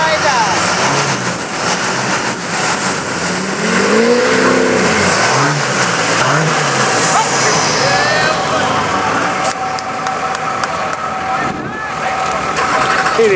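Lifted 4x4 pickups, Chevy, Ford and Dodge, strain against each other in a truck tug of war at the Lake Alice off-road grounds, engines droning and revving loudly and continuously beneath wind buffeting and voices talking over them.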